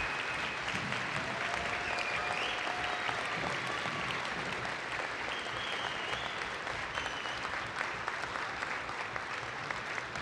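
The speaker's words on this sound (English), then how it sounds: "Please, one more round of applause for Ms. Hagler and all of the teachers here in this building" Sustained applause from a school assembly crowd honoring a teacher receiving an educator award, steady dense clapping filling the room throughout with no break.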